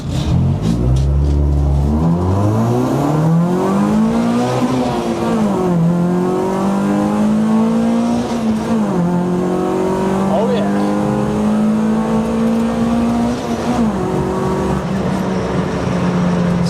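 A loud Citroën Saxo VTS track car engine revs up and holds a high, steady drone from inside the cabin, pitch climbing and shifting through gear changes.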